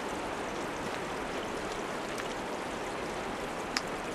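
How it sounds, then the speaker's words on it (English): A freshwater stream flows steadily beside a hiking trail, giving a constant, even rush of water with no voices. "Got some fresh water rolling behind you."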